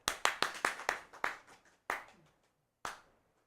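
Clapping at a live reading of A Christmas Carol, a short run of seven or eight sharp, evenly spaced claps that slow and fade, then two isolated claps after pauses, close and fairly quiet.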